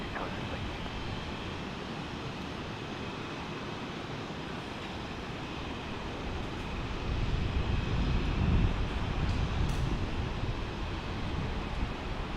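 A Delta airliner takes off from runway 28 right at Fort Lauderdale International Airport, a distant, low jet rumble over wind that swells louder in the second half.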